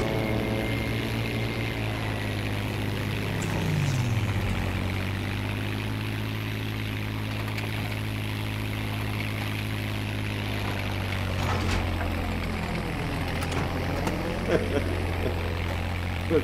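A P-51K Mustang propeller plane in Battlefield V on the Twisted Steel map, its engine a loud continuous drone with a slight rise and fall in pitch, while someone talks over it.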